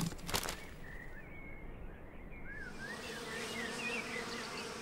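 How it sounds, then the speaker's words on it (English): Female worker bees buzz steadily around the hive, a dense close hum with individual insects droning past, while faint birdsong rises in the background. "The female worker bees tirelessly carry food to the hive."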